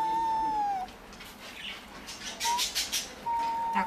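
An animal at a petting zoo whines in long, thin, high-pitched drawn-out cries, with a few short squeaky yelps in between, close and fairly loud.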